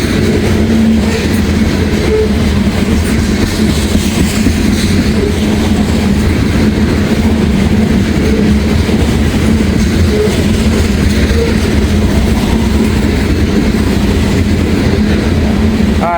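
Old freight grain train of boring grain hopper cars rolling past outdoors on a foggy morning, a steady loud rumble with rhythmic clickety-clack of wheels over rail joints throughout, no voices.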